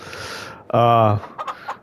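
A video game chicken in Farming Simulator 22 lets out one loud, drawn-out squawk followed by a few short clucks, close and clear.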